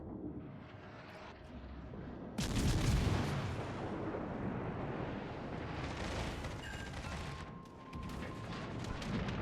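Warship guns firing high-explosive shells at a heavy cruiser in a naval video game, a dense rumbling barrage that jumps sharply louder partway through and keeps rolling with layered blasts and crackle.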